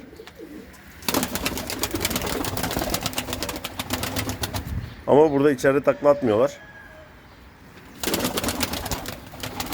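Tumbler pigeon coos rise briefly in the middle, wavering and close, between stretches of man's speech over a steady engine-like background hum.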